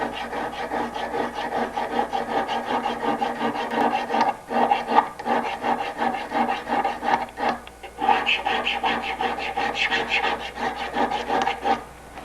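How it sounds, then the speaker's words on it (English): A small jewelry file rasps steadily across the steel lugs of a bicycle frame, a continuous dry scraping in quick back-and-forth strokes with brief pauses, close and fairly loud throughout. "Use our little jewelry file here."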